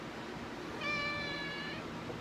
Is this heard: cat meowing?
yes